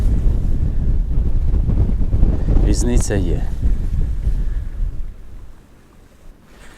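Strong wind on a shore while spin fishing buffets the microphone with a loud low rumble, someone briefly speaks over it, then the gusts ease off near the end.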